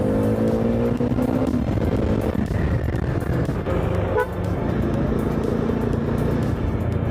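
A motorcycle accelerates along a busy road with loud steady engine and wind roar, passing traffic and a car horn tooting near the start.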